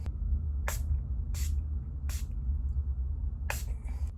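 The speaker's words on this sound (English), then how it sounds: "we're gonna set it with some setting spray" Four short, sharp hissing spritzes from a pump bottle of makeup setting spray, spaced about a second apart, close by over a low background hum.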